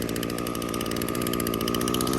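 A chainsaw running during timber cleanup, a loud close buzzing engine held at steady revs throughout, with no talk over it.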